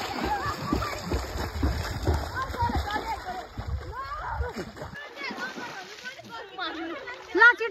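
Children splash into river water, with repeated sloshing bursts and busy kid chatter and shouts all around, the splashing loudest early on and giving way to voices near the end.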